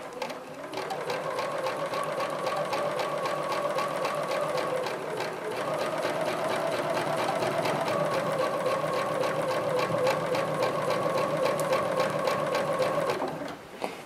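A sewing machine stitches through a quilt with a diamond and teardrop grid design, a close, steady rapid whir with one short pause midway before running on and stopping.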